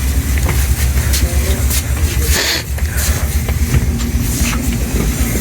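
An express train stands at a station platform in Balochistan, Pakistan, giving a loud, steady low engine rumble with hissing and scattered clanks close by, and no clear talking.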